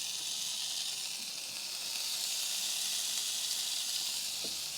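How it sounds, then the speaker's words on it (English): Zucchini slices sizzling on a Ninja Woodfire outdoor grill, a steady, even high hiss of frying with no talking and only faint small pops. "Now let's get those zucchinis on."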